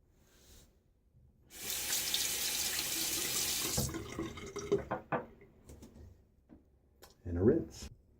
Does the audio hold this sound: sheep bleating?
no